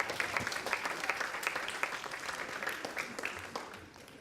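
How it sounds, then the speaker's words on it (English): A youth summit audience claps together in a moderate round of applause, fairly quiet and distant, the claps thinning slightly toward the end. "Just give them a round of applause."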